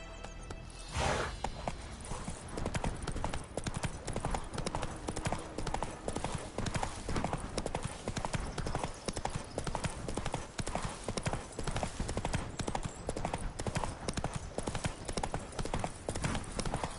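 Horse hooves trot in The Witcher 3, a fast, even clip-clop that runs the whole way through, close and loud, with brief game speech at the start.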